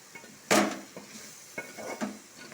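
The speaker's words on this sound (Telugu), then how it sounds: "ముందుగా వేయించుకున్న కాకరకాయలు మొత్తం కలుపుకోవాలి ఇలా దగ్గరగా." A spatula scrapes and clanks through fried bitter gourd pieces in a pan, with one sharp metallic knock and several softer scrapes and taps spaced out over a few seconds.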